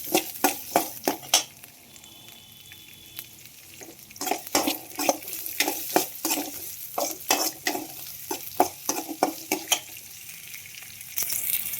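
Onions fry in oil in a pan for a chicken gravy curry, with a soft sizzle under rhythmic scraping and stirring strokes of a utensil against the pan, close and repeated throughout.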